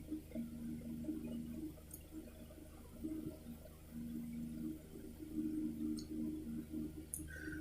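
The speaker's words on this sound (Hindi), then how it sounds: "यानी इसमें पानी गर्म हो रहा है।" Water heats in a pot on an induction cooker, giving a faint, low bubbling and simmering hum with a few soft ticks and clicks throughout, quiet and steady, with no talking.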